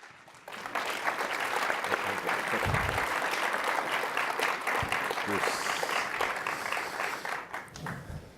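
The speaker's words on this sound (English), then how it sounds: "please help me, with a round of applause, welcome our guests" Sustained audience applause welcoming guests to a university lecture hall, a dense, steady wash of many hands clapping that swells quickly and holds for several seconds before tapering slightly at the end.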